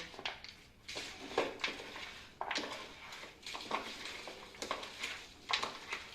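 Farali bhel being stirred and mixed in a bowl, with soft repeated scraping and rustling strokes in an uneven rhythm. The sounds are close but fairly quiet, with no voices.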